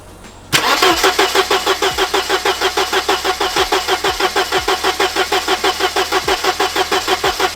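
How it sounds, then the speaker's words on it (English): A classic Mercedes car engine being cranked, the starter motor churning in a fast, even rhythm of repeated loud pulses for several seconds after a sudden start, close up and without catching. "You can see me and Aaron tried to start the car."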